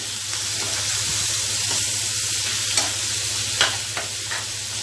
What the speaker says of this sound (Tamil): இந்த ஊறுகாயை நல்லா கிண்டிக்குங்க.